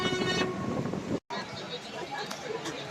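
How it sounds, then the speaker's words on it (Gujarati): Train noise on a passenger train halted at Gondal station en route from Rajkot to Porbandar, a steady rumble and clatter with a brief horn-like tone, cut by a short silent gap, with some voices in the background. "ટ્રેન ઊભી રહી છે."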